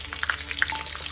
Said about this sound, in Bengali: 2টো তেজপাতা, একটু দারচিনি, 2টো ছোটো এলাচ, আর সামান্য গোটা জিরে, এগুলো ফোড়ন দেবো